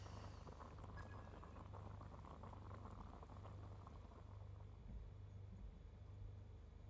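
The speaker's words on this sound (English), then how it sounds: "I'll boil some water." Water boils steadily in the game Genshin Impact, a continuous low bubbling and simmering hiss that runs on its own throughout, fairly quiet and even, with no talk over it.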